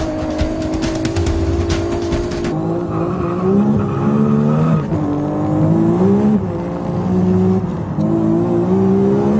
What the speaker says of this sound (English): 900 horsepower on tap with 2 bar of boost. He keeps spinning tires all the way to fifth gear.